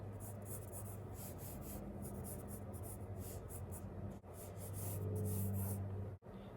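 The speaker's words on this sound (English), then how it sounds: "And now we can start drawing smaller shapes" Pencil or pen drawing shapes on paper: a steady, close scratching and rubbing that runs almost continuously, with two brief pauses where the tip lifts, and no voices.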